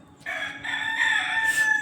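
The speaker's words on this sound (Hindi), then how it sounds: "मुर्गा भी बोल रहा है" A rooster crows outdoors on a cold, misty winter morning in a rural yard, one long loud call rising and holding for almost two seconds, close to the listener with no talk over it.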